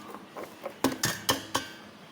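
Chana chaat of boiled chickpeas, potatoes, onions and salt being mixed with a spoon in a bowl: a few soft scrapes, then four clear clinks of metal against the bowl in quick succession, close and alone.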